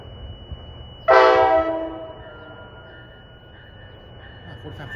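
A loud horn on a CSX military train blasts once near, then fades into the rumble of the passing train, with a faint second horn note further off, in Union, New Jersey.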